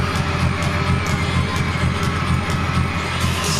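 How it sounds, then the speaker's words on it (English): A hockey arena crowd roars excitedly in a dense, steady wall of cheering and shouting, with a low rhythmic thumping pulse underneath throughout. "But the crowd is very excited right here."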